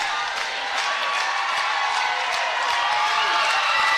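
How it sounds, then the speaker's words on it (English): A dense, constant roar of crowd noise at a Lincoln County Panthers vs. Scott Skyhawks game, steady throughout, with scattered clapping and cheering mixed into the wash. "he can't hear me for the crowd"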